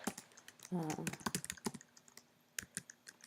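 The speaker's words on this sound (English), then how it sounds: "What I do is I then type" Someone types on a computer keyboard in a rapid, uneven run of close clicky keystrokes, with a short burst of talking early on and a few pauses between clusters of keys.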